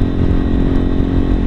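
A Lifan KPR 200 motorcycle engine runs steadily up close, a loud, continuous throbbing drone with no voices over it.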